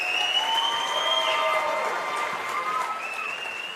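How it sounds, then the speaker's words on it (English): A crowd in a school gym at a Branson vs Republic girls basketball game applauds the Buchanan Intermediate Choir. The clapping is steady and sustained throughout, with high squealing tones drifting over it and a faint voice underneath. "Again, great round of applause for Buchanan Intermediate Choir."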